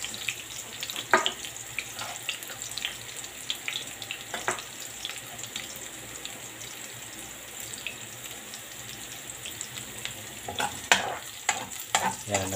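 Garlic and onion fry in a pan for pancit bato, a steady soft sizzle broken by clinks and scrapes of stirring, with no talk.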